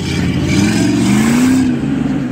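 An off-road vehicle engine revs hard and climbs in pitch for a couple of seconds, loud and close, then eases off.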